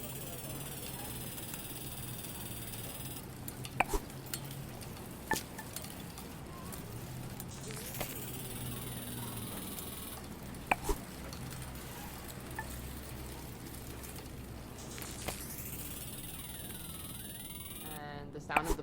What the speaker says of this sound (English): Here's the sound of my bicycle rolling down the street.